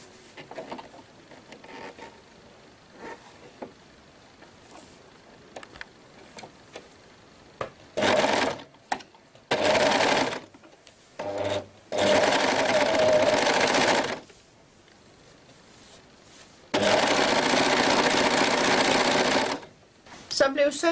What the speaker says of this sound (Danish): Og så syr vi den her søm sammen, som bliver vores eneste søm ned på langs af nederdelen.